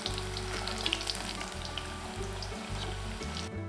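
Breadfruit chilli 65 fries in oil with a continuous, close sizzle and a low bubbling rumble, plus a few brief clinks and scrapes, before it cuts off abruptly at the end. No speech.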